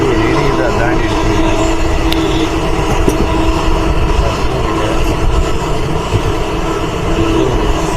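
A passenger train runs along the tracks departing Arakkonam, a loud continuous rumble and rattle of wheels and carriages heard from on board throughout, with a faint tonal hum.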